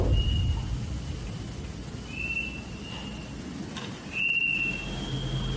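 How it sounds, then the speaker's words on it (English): Whistling wind moans through the wilderness around an abandoned church, with thin sustained tones rising and fading over a steady low rumble, one louder gust near the end. "amongst the whistling in the wilderness"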